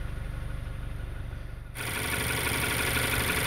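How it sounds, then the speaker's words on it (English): A car engine runs with the bonnet lifted, a quiet steady idle that suddenly grows louder and fuller partway through, then holds a constant drone. "I've lifted the engine bonnet on my car, got the engine running."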